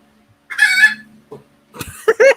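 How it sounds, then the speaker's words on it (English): Chicken crowing and clucking nearby, loud and close, with a drawn-out crow followed by a short cluck and then a burst of rapid squawking calls. "Even the fucking chicken is laughing at me right now, Bri."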